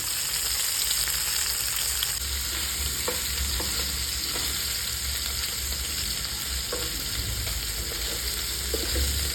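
Sea poya fish fries in oil in a pan, cooked as a tel bhuna. A steady, loud sizzle hisses throughout, with a few faint stirring clicks and no voices.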